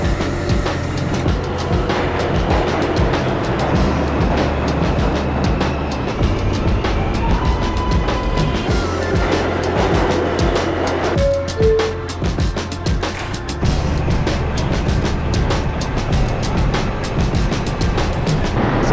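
Steady rumble of a moving New York subway train with rhythmic rattling and mechanical clatter throughout, a few brief squeals mid-ride; no talking.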